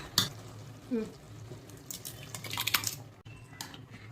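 A spoon stirs cooked dal into sambar in a pot, faint wet scraping and a few light metallic clinks and drips, quiet and close.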